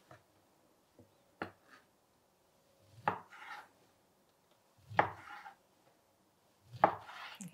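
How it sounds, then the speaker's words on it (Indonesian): A knife chops fish cake and tteokbokki rice cakes on a board, five sparse, crisp chops spaced about a second or two apart in a quiet kitchen. "Setelah acara potong-potong"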